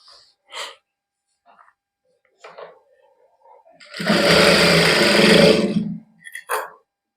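A sewing machine stitches a straight salwar in a Punjabi boutique, running steadily for about two seconds, loud and continuous, with brief quieter sounds before and after.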